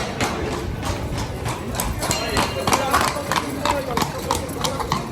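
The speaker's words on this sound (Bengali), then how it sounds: "এখানে আসলে এরকম ঘোড়া গাড়ি ভাড়া নেওয়া যায়" Horse-drawn carriage hooves clip-clopping in a steady rhythm on a city street in Spain, mixed with traffic and engine hum, while a person talks over the scene.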